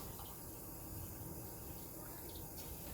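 Warm water, two more cups, poured into a homemade bread dough mixture, a steady faint trickling fill that runs continuously for the whole stretch with no voices.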